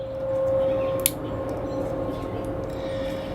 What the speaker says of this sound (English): that's a machine that they use to clean the sewers out